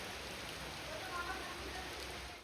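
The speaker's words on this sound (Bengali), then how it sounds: "তাও কিন্তু হালকা হালকা বৃষ্টি পড়ছে।" Light rain falling outdoors on an evening after a heavy downpour, a soft even hiss that stays steady and fairly faint throughout before fading slightly at the end.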